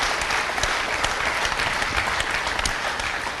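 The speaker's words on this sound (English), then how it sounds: "That's worth applause." Steady applause from an audience at a city council meeting, dense and even throughout, with no voices standing out.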